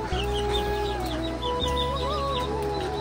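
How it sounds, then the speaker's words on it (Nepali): A rooster clucks and calls faintly against a steady background hum, with scattered bird chirps throughout. "हाम्रो चाहिँ भाले हो"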